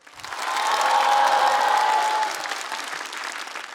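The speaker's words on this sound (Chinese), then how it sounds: "掌声，谢谢大家。" A stand-up comedy audience claps in a dense, full burst of applause that swells quickly, holds for a couple of seconds, then thins and tapers off.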